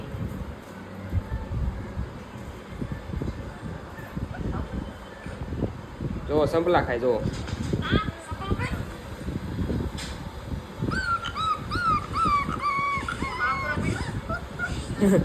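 Puppies whimper and yip in short high bursts near the middle and end, mixed with close handling noise, while people talk and laugh nearby.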